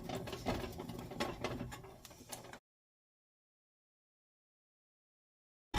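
Homemade Payday candy mixture with vanilla being stirred, a close series of sticky scraping and clicking strokes for a couple of seconds, then abrupt silence.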